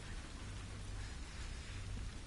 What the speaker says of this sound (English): Rain sprinkling on the ground.